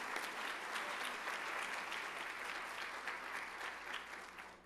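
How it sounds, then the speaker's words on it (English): Sustained applause from an audience honouring retiring teachers at a teaching excellence awards ceremony, steady crowd clapping throughout, fairly distant and even. "How about a round of applause for all 46 people?"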